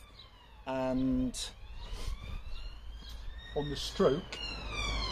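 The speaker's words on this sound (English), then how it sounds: "it can't be every time I video a police car goes by, ambulance" A police car siren wails past on a street while a person talks over it, the rising and falling tone clear but moderately distant, with another emergency vehicle's siren mixed in.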